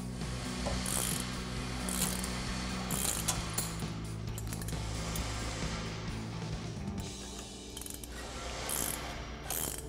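Ratcheting wrench loosening a nut on a Toyota Tundra suspension during a 3-inch TRD lift install, with rapid continuous pawl clicking and metallic rubbing close up in a shop with a low hum underneath.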